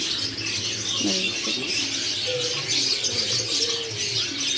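A crowd of birds at the Pramuka bird market in Jakarta, steady high chirping and twittering with a few lower coos, heard against the constant murmur of the market.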